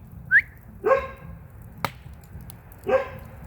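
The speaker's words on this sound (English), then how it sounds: "Dogs don't like strange people hanging around." A household dog barks a few times in separate bursts, moderately close, with quiet pauses between each bark and no talking over it.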